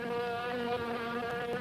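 Steady insect-like buzzing of a fly from the Return of the Fly movie trailer, continuous and fairly loud over a sustained tonal drone.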